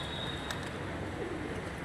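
Soft pigeon coos sound faintly against a steady, noisy outdoor background, with a brief higher chirp early on, at a Hanuman temple by water troughs and scattered grain on a city road in Rajkot.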